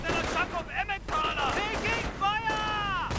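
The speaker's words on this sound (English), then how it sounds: "Grenade goes off." Gunfire and a grenade blast in a World War II strategy video game, a burst of shots and a dull explosion mixed with game effects, heard under someone talking.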